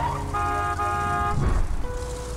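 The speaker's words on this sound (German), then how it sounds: "Fahr einfach ran und hupe." Vehicle horn honking in the Borderlands 2 video game, a loud sustained tonal blare that sounds twice in quick succession, followed by rumbling engine and game noise.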